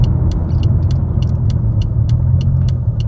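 A steady four-cylinder car engine idles with a low, even rumble, joined by faint regular ticking clicks throughout.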